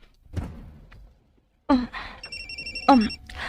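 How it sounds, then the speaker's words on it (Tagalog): A cellphone rings with a steady electronic tone held for about a second, mixed with thumps and short bursts of nearby movement or voices in an indoor scene. "Nganong mibagting man imong cellphone kung wa kay gipaabot nga tawag?"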